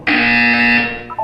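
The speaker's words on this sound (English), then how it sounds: "You will hear a buzzer." A loud, harsh electronic buzzer sounds once in the Portal 2 game and holds for nearly a second. A brief higher two-note tone follows it. Nobody speaks.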